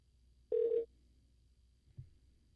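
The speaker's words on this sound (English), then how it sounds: "It's ringing very weird and sporadic." A telephone rings in a weird, sporadic way: one short electronic trill burst, then a faint low blip about a second later, with quiet background in between.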